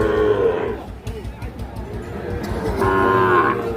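Cattle at a busy rural cattle market moo loudly and close, one long call at the start and another near the end, with crowd chatter and voices in the background.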